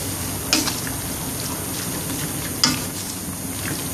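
A spoon stirs vegetables and leaves into a grilled chicken curry in a pot, with a soft simmering bubble and two sharp clinks of utensil against the pot.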